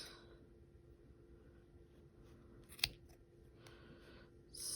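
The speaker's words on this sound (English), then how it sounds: "I am going to cut all the rest of the loops" Scissors cutting yarn loops for a pompom, quiet close snips including one sharp crisp cut and a few softer clips over faint room hum, no talking.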